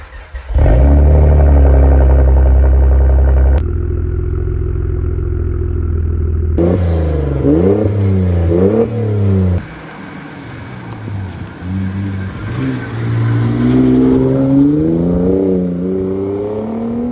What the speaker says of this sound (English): I think being a V6, it needs some of that V6 noise. So I had the rear boxes taken off